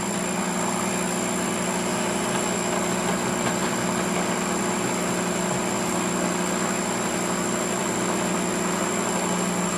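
A mixer whirs at high speed through a batch of smooth homemade yogurt, a constant loud motor drone with a steady hum that never changes over the whole stretch, no talking.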